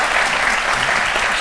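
Loud, dense applause from a studio audience on a French midday television programme, a continuous close wash of clapping that fills the whole short moment.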